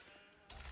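Sheep in the Age of Empires video game let out a short bleat in the second half, louder than the quiet game backdrop before it.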